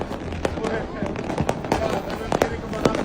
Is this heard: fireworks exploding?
yes